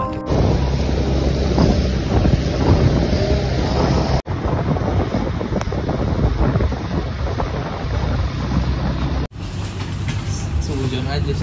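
Wind sweeps across the open, hot summit of Mount Pulosari in Banten, buffeting the microphone with a loud, continuous rumbling roar that barely lets up.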